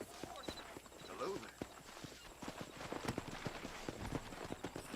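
Horses in the Western video game Red Dead Redemption clop steadily on their hooves, with a brief whinny near the start, while in-game voices talk over them.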